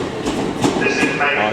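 A TransPennine Express train travels along the rails near York, heard from inside as a steady loud rumble with faint wheel clatter and brief metallic squeals.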